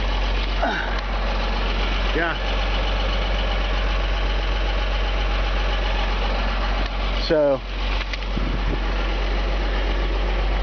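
A 1953 Chevy 3100 pickup truck, an old barn find, idling with a steady, low engine rumble throughout while someone talks over it.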